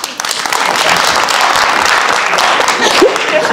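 Unvaccinated audience members at a Romanian stand-up comedy show clap in a full, sustained burst of crowd applause, with some louder individual claps standing out near the end.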